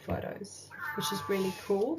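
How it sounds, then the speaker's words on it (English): A house cat meows several times in short rising cries, close and clear, overlapping a person talking during a craft album project. "Sorry about the cat."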